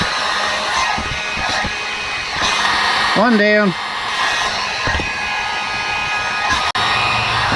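A handheld hot air tool blows steadily while shrinking wire connectors on a truck engine fan override switch install, a continuous close whooshing drone with a voice and a brief whoop over it.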